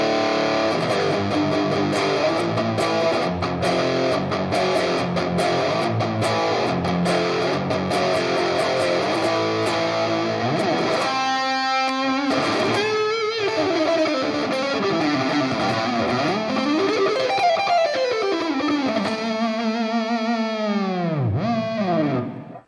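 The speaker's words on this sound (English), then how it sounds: "this is the Schecter Hellraiser collection. This series features active EMG pickups, which have powerful ceramic magnets" A Schecter Hellraiser electric guitar with active EMG pickups played through heavy distortion and chorus effects: chugging riffs, then sustained bending and swooping notes, loud and continuous with no talking.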